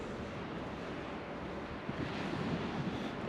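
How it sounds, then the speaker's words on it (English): Ocean waves wash steadily onto a sandy Scottish beach near a links golf course, a continuous broadband surf roar with wind buffeting the microphone and a slightly louder swell toward the end. "Listen to the waves."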